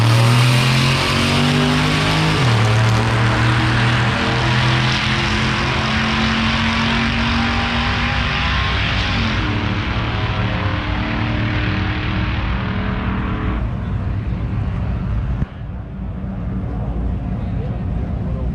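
Drag race between a 2010 fifth-generation Camaro and a 1975 pickup truck at Gainesville Raceway, engines roaring loud and continuous with revving harmonics, a sharp drop near the end, under announcer-style talk.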